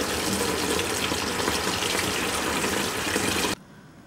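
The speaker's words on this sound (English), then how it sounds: "First, fill up the tub with water." Water gushes steadily from a tap into a tub, a loud close rush that runs evenly for several seconds before being shut off abruptly.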